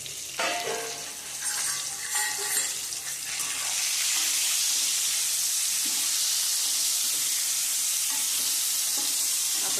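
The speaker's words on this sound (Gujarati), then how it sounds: "આને તેલમાં તળાઈ જવો જોઈએ એટલું તેલ મૂકવાનું" Whole okra fry in a generous pool of hot oil for a Gujarati vegetable dish, giving a steady, loud sizzle that starts with a few stirring clatters and then settles into a continuous hiss.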